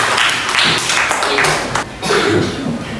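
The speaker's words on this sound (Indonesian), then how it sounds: "Tepuk tangan untuk Mas Desta." A class of students claps in a classroom, loud and close, in uneven bursts of hand claps that pause briefly before picking up again.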